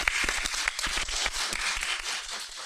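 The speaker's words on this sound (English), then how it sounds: "We can clap." A live conference audience in Fort Lauderdale claps, loud and close, with distinct sharp hand claps over a full crowd's applause that softens slightly toward the end.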